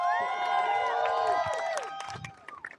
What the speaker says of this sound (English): we could have an applause